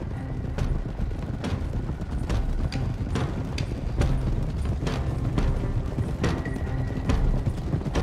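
Horses' hooves clip-clop steadily in Red Dead Redemption 2, several animals moving together at a walk with loud, close, uneven strikes and no voices over them.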